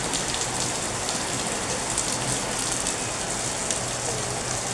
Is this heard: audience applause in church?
no